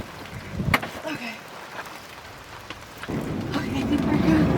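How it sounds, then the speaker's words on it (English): Rain falls steadily outdoors around a van while thunder rumbles low and near, the downpour swelling louder toward the end. "It's raining."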